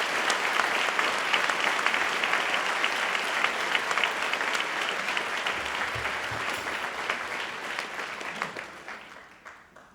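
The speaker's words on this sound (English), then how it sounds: "Please join me once again in congratulating all of the graduates with your applause." Dense audience applause at a Dalhousie University Faculty of Science spring convocation for the graduates, steady clapping throughout that tapers off slightly near the end.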